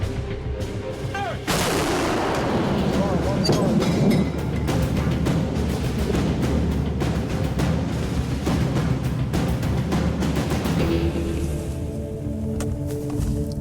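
An artillery gun fires for avalanche control above a highway in British Columbia. A massive close boom is followed by a long rumbling echo that rolls on for seconds, with faint radio voices near the start.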